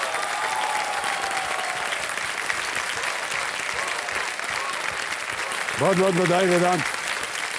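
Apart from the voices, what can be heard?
studio audience applause on quiz show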